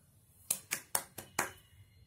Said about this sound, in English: clapping with my Taurus